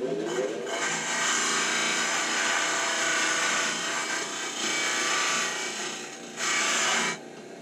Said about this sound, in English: So I'm going to go ahead and sand both of these up.